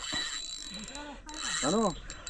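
A fishing reel's drag clicks in short ratcheting bursts while a jitada fish is played on the line during coastal Konkan fishing, faint and close, mixed with wind and brief vocal sounds.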